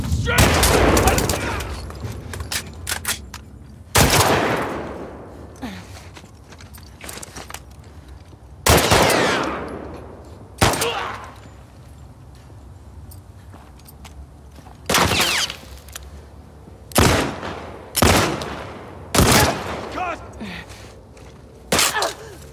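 Enemy gunfire in The Last of Us Part II: loud bursts of shots ring out in about eight separate volleys, spread irregularly over the stretch, with quieter rumble and scattered impacts between them.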